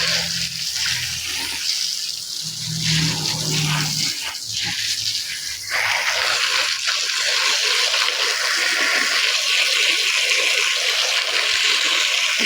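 Wild puffball mushrooms are washed under running water: a steady, close splash and gush of flowing water, with shifting tone as the mushrooms are handled beneath the stream.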